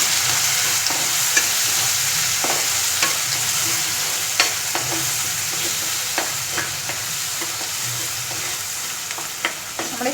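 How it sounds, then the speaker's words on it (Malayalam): Tomato chutney being stirred in a hot pan, a steady frying hiss with repeated spoon scrapes and clicks against the metal at irregular intervals, close and alone without talk. "നല്ലോണം ഇളക്കി യോജിപ്പിക്കാം"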